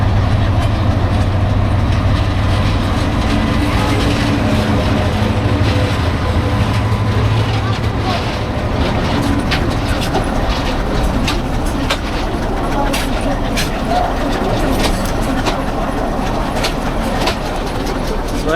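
A crowded Mohua commuter train idles at Rajendrapur station, which has no platform, with a loud steady mechanical rumble and low engine drone throughout, light clanks and some faint background voices.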